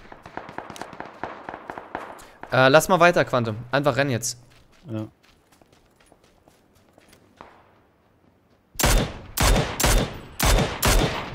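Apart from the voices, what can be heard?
gunfire in a shooter video game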